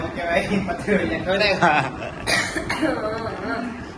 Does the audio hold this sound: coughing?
yes